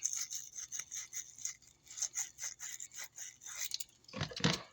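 A small brush scrubs inside the fluid nozzle housing of a spray gun being cleaned, quick back-and-forth bristly strokes in a steady rhythm, close and fairly quiet, ending in a louder scrape.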